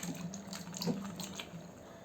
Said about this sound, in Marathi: कारली भिजत ठेवली होती ती आता अशी धुवून घेऊया छान